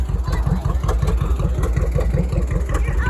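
Two-cylinder John Deere tractor engines running at an outdoor tractor show, a loud, steady low rhythmic popping chug from close by, continuous throughout.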